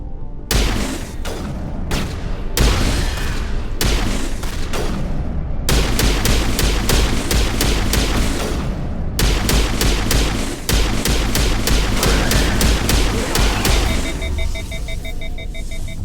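Rapid gunfire in Mass Effect Legendary Edition, fought against husks: long, steady volleys of loud, close shots fired in quick succession, broken by a few short pauses, with an electronic beeping tone near the end.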